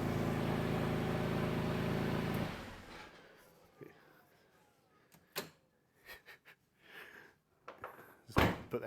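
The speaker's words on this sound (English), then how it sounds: "Put that garage door down." A garage door closes with a steady mechanical rumble for a couple of seconds, then stops, followed by a few scattered knocks and a loud thud near the end.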